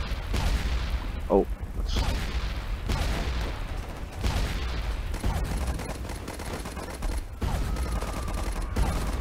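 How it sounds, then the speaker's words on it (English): Mortar strike explosions and gunfire in the Warfare 1917 flash game, a few heavy booms standing out over ongoing rattling shots, with a voice speaking briefly over the battle. "they got a mortar strike incoming"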